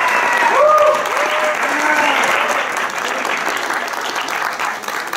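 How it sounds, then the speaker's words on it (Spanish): An audience applauding the twelve candidates for queen of the 2019 La Paz carnival, sustained loud clapping with a host's voice over it at the start, then steady crowd applause that continues to the end. "por favor brindémosle un fuerte voto de aplauso a estas bellísimas damas"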